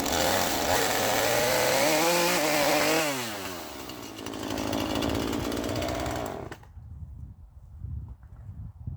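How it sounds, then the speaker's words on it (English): Chainsaw with unevenly worn bar rails cutting through wood, a loud continuous buzzing whine that bogs and shifts pitch as the cut binds, then cuts off abruptly, leaving quiet low rumbles. "I've never dressed a chainsaw bar before, and so despite the cutters being reasonably sharp, the wonky bar rails are curving this cut until it jams"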